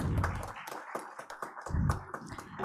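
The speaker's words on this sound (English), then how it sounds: "Can we please have a louder round of applause," Scattered applause from an audience at a conference on digital autonomy, a few uneven hand claps and taps, fairly faint and sparse rather than a full ovation.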